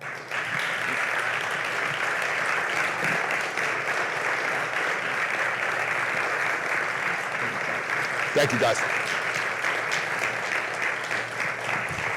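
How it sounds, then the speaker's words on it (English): Audience applauding after a U.S. Army veteran's speech, steady sustained clapping throughout with a brief spoken thanks in the middle. "let's give him another big round of applause"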